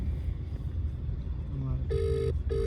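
A phone ringtone sounds in two bursts of steady tones over a low rumbling background, with a short gap between them.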